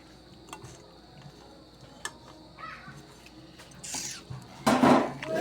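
A spatula clinks and scrapes against a pan while pork sisig is stirred with mayo, first in sparse taps and then in a louder burst of metallic scraping near the end.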